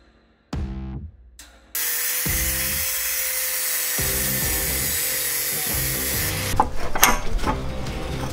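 A stainless steel exhaust flange for a C25 Turbo 4x4 Group N rally car is cut with a power tool. The motor whines in short bursts, then settles into a long, harsh, sustained cut, ending in rough scraping clatter.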